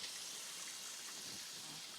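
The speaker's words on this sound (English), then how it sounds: "I'm gonna wash my hands" A kitchen tap runs steadily while hands are washed at a sink, a soft, even gush of water hissing throughout with no voices.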